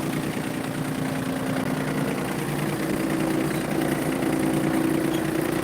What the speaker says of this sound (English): Hopping on the tractor.